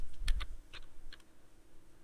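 Several quick key clicks from a computer keyboard while a product variation is typed into an Amazon seller listing, a short burst of taps close by and then quiet.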